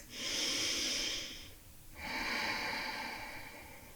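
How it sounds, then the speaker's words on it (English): Two slow, deep breaths during a gentle beginner yoga flow in a tabletop position, each a long airy inhale or exhale with a short pause between, close and soft, with no talking. "Take a couple of breaths."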